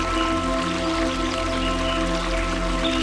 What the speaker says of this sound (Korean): 조금 더 걸어가면 작은 개울이 졸졸 흐르는 소리가 들려옵니다.